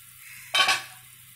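Tomato rasam in a pot, heard briefly as a single close clatter and rush of liquid, like a lid lifted or a ladle stirred, over a faint low hum before fading back to quiet.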